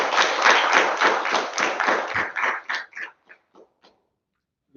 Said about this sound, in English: Everybody give a round of applause for Richard for doing a great job.